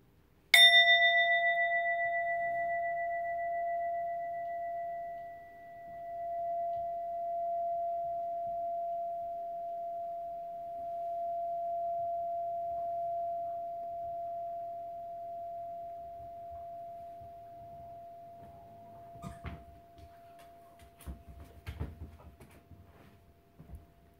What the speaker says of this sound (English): listening to the sound of the bell all the way to the very end